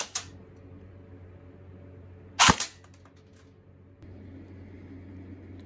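A single sharp crack from an AEG airsoft gun fired at a glass jar, one brief loud report with a quick secondary snap, surrounded by a faint steady mechanical hum and near-silence.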